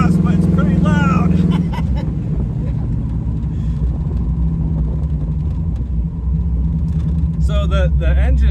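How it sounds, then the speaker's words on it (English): A deep, loud exhaust from a 1967 Pontiac Firebird with a 400 engine rumbles steadily throughout, close by, while people talk over it. "I don't know if you guys can hear the exhaust"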